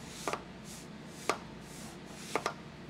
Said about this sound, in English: That's the sound of that return bend hitting the back side of the shear blade.